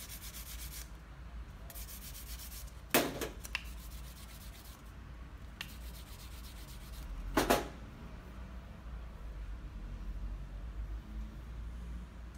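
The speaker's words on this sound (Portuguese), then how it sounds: "Lixa 800 na lateral" Sanding a silver 925 wedding ring with 800-grit sandpaper: steady soft rubbing strokes continue throughout, with two sharper scrapes or knocks standing out partway, close and fairly quiet.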